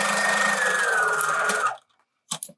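Home sewing machine stitching down the folded edge of a fabric face mask, a steady close whirring hum that runs for under two seconds, stops abruptly, then gives a couple of short bursts after a pause.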